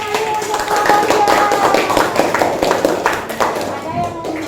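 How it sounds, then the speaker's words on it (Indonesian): A classroom applauds a student group: a burst of hand clapping rings out close by while voices talk over it, fading toward the end. "Oke, tepuk tangan kembali untuk kelompoknya"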